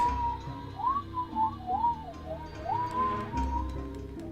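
A character in the video game Choices whistles a short, wavering melody of rising and falling notes, played clearly and close with no other sounds over it.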